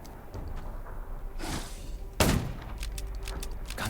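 A single sharp gunshot-like blast cracks out over a steady, noisy soundscape in the zombie video game Undawn, with a softer whooshing burst shortly before it.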